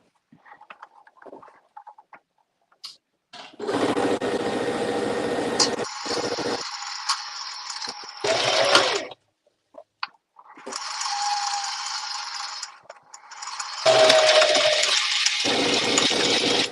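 Domestic sewing machine zigzag stitching back and forth across the butted ends of elastic, running in two loud sustained bursts of a few seconds each with brief pauses, close up and with no talking.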